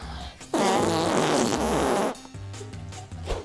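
A person's voice imitates a fart with one loud, close, sputtering raspberry that lasts about a second and a half, followed by quieter room sound.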